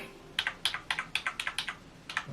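Typing on a Logitech K120 wired keyboard connected to an Acer PC: a quick, uneven run of about a dozen crisp key clicks, close up over a faint room hiss.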